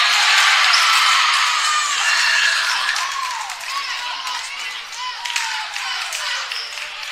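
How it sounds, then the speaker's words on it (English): A crowd at a varsity boys basketball game claps and cheers in a dense, echoing wash of applause with high shouts, fading gradually, while a commentator talks over it. "And the crowd is getting into the game."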